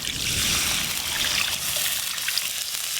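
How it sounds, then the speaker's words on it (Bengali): Water poured into a cooking pot of spiced vegetables simmering for a Bengali shukto, a close, continuous hissing trickle and splash lasting a few seconds, loudest at the start and then easing off. "এবার সবজি সেদ্ধর জন্য একটু জল দিয়ে দেব।"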